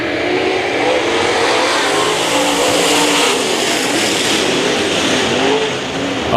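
Late model race cars roar as they accelerate together at the green flag on a raceway oval, a dense, loud, continuous engine drone with rising pitch sweeps from the pack, no speech.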